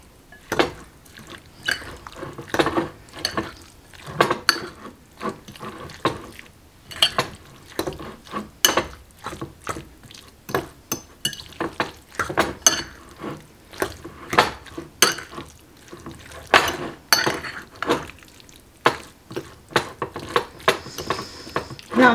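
A utensil scrapes and taps against a bowl while tuna sandwich filling is mixed together, giving a steady run of irregular clinks and soft wet stirring, close and moderately quiet.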